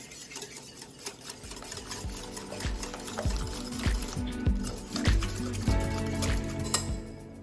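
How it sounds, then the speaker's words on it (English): A whisk beats egg and sugar together in a bowl for keto chocolate chip zucchini muffins, giving quick, irregular clinks and sloshing strokes against the bowl that grow louder and more vigorous as it goes. "For our egg, we're going to add our sugar. And we're gonna whisk this together."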